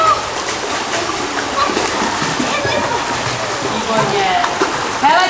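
Kindergarten children splash in a swimming pool during a lesson, continuous sloshing and spattering water close by, mixed with an instructor speaking and children's voices.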